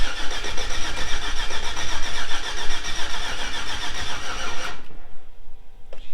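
A 1946 pickup truck engine cranks and turns over, a loud, steady mechanical churn that holds for several seconds before cutting off abruptly, with no voices over it.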